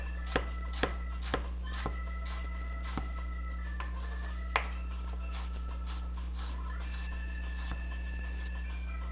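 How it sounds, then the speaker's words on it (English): A knife roughly chopping food on a board gives sharp, irregular knocks spaced a second or so apart, fairly quiet over a steady low hum in a home kitchen. "So it's just a rough chop."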